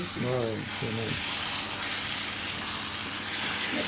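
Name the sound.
drumstick tomato curry simmering in pan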